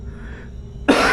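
One sharp, close cough erupts suddenly after a moment of near silence, in a stuffy room of an old house.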